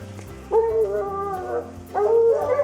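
A hunting hound bays on a cold trail in the wilderness: two long, mournful howls, close and loud, with a short pause between them and no talk.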